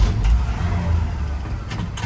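The engine of a 1966 Chevy C10 Stepside pickup coming to life, a loud, close rumble that swells briefly as it revs, with no talking.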